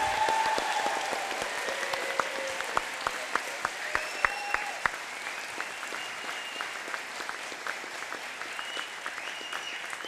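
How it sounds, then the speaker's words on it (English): Applause fills an indoor middle school moving-on ceremony for eighth-grade students, with sustained clapping from a seated audience and scattered whoops, steady and moderately loud throughout while a voice speaks over it. "Huge round of applause for Team B students."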